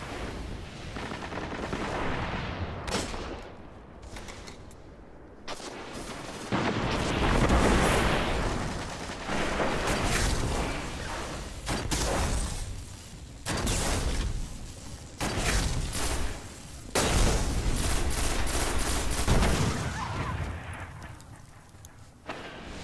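Heavy rocket explosions in Destiny land with loud booms alongside bursts of rapid gunfire, and the loudness swells and drops repeatedly across the battle.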